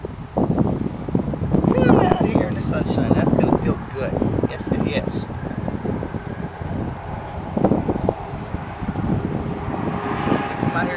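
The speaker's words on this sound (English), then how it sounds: "The wind was really blowing through here and just put a chill on everything." Wind blows outdoors in cold weather around young teacup Chihuahua puppies, a constant loud rumbling buffet across the whole stretch with faint rustling on top.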